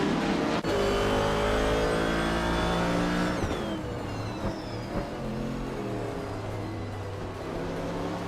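In a racing video game, a pack of race cars including a classic 1969 Chevrolet Camaro launches at the start at Virginia International Raceway's Grand East course. Engines roar and rev loudly and continuously, then settle into a steadier drone.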